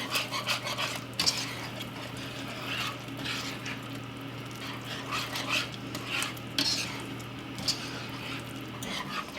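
A spoon stirs thick chicken pot pie filling in a pot with soft, repeated scrapes and clinks over a low, steady hum, fairly faint and close, with no talking.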